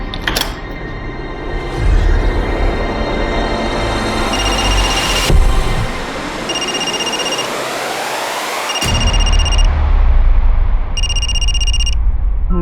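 Repeated bursts of electronic phone ringing, several rings spaced apart, fairly loud over a steady rumbling background noise.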